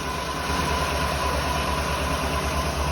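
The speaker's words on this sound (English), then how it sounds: "We're gonna let it idle for a couple seconds, maybe a couple minutes." A low-compression Continental Mark VI engine idles steadily nearby, a loud continuous low rumble with a faint high whine, unchanging throughout.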